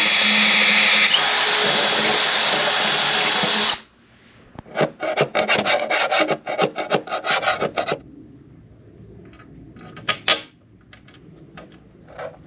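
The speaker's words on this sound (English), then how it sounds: "Just got to drill these 4 holes" Loud, steady power-drill grinding through metal for a rat rod build cuts out abruptly, followed by a burst of rough scraping and rasping, then a few scattered metallic taps.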